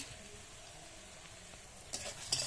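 Vegetables and onions frying with spices in a pan give a steady soft sizzle, faint and close, with a couple of brighter crackles and a slight scrape near the end, no talk.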